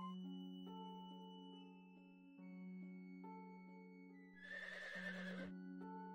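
A horse neighs once in the video game Settlement Survival, a clear whinny rising over a steady backdrop of game music and ambient tones, fairly quiet overall.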